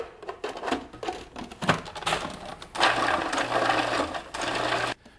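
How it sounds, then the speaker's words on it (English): Food processor pulsing celery for New England-style fish cakes: a rapid mechanical chopping rattle in short bursts of a second or so, close and moderately loud, with a brief pause between pulses. "And then I'm going to pulse some celery"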